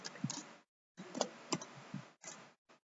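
Typing a router command on a computer keyboard, a close, quiet run of crisp key clicks in short bursts separated by brief silences, heard alone.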